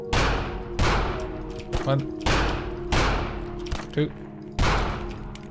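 Gunfire in The Final Station, a survival game set at a ruined station: five or six heavy, booming shots at irregular intervals with short ringing tails, a few clicks between them, and a voice briefly counting.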